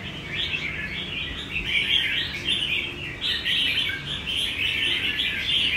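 Caged songbird singing a continuous run of bright, rapid chirps and trills, close and clear over a quiet background.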